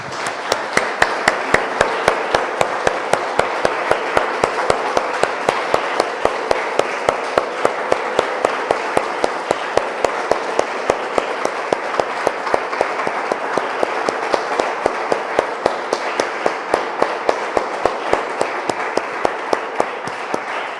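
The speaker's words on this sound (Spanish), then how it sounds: "Damos un aplauso, hermanos, al Señor" A church congregation claps for the Lord after a prayer, the hands striking together in a fast, even rhythm for about twenty seconds, with a soft wash of room sound beneath the steady beat.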